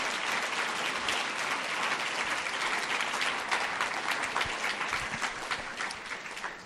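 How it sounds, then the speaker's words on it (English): Sustained audience applause after a panel discussion at an Auckland Conversations climate talk, dense steady clapping from a crowd filling the whole stretch without pause. "let's give our panel a great round of applause for their participation"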